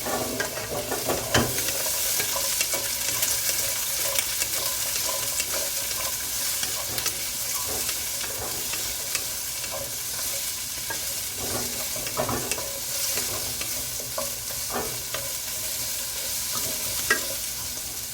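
Half an onion frying in two tablespoons of oil, a steady, close hiss and crackle that runs unbroken for a long stretch, with occasional soft stirring knocks and no one talking.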